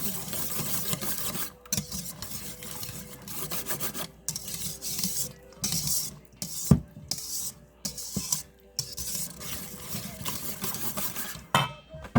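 Close, steady rasping scrapes of a spoon mixing broccoli, rice, celery and onion casserole ingredients in a bowl, continuous rough stirring with short pauses and a couple of sharp knocks.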